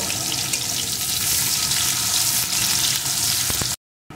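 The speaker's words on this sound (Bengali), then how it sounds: "পেঁয়াজ কুচিটাও একটু ভেজে নেব।" Chopped onion frying in a pan while cooking a hilsa fish and eggplant curry, a steady, loud broadband sizzle that runs continuously and cuts out abruptly near the end.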